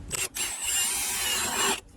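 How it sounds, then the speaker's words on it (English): A power drill fitted with a hole saw bites into wood, a harsh grinding rasp that cuts in briefly, pauses, then runs steadily for about a second and a half before stopping. "hold your drill tight"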